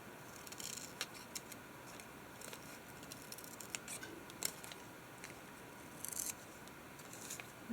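Scissors trim paper for a journal page in a series of short, crisp snips spaced irregularly. The cuts are quiet and close over a faint background hiss, with no talking.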